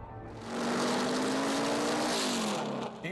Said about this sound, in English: Even the cars sound louder on race day.